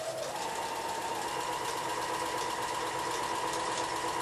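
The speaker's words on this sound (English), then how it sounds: "After I get done sewing into the strip sets, I'm going to press towards the dark." A sewing machine stitches quilt strip sets in a steady, fast mechanical whir that runs without pause at close range and moderate volume, with no talk.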